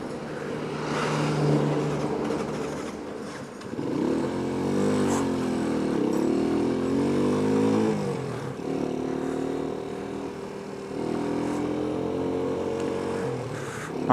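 A motorcycle engine runs steadily during a ride in Mexico, a loud, continuous drone whose pitch rises and dips as the throttle changes over about fourteen seconds. No talking is heard.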